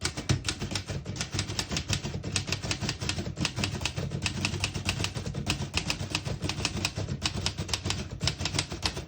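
Steady, rapid typing on a 1948 Remington De Luxe Model 5 portable typewriter with Elite typeface, its heavy keys striking in a dense, even clatter of clacks that carries on close-up for about nine seconds.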